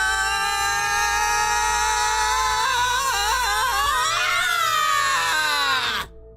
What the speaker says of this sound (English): He ducks down and starts screaming.